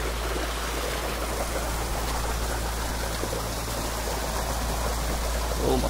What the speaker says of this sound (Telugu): ఇక్కడ నుంచి అయితే వాటర్ అయితే వస్తున్నాయండి.